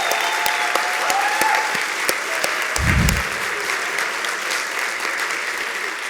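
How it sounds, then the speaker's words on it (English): An award ceremony audience bursts into a short, loud round of applause lasting about a second, set against faint room noise and scattered clicks. "I wanted you guys to give a round of applause to your faculty and everyone who was involved in this"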